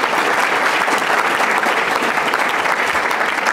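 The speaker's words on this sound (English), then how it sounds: "Give her a round of applause to begin with." An audience at a forum on social services in Illinois gives Marca Bristo a loud, sustained round of applause, dense clapping from a full room with no pause.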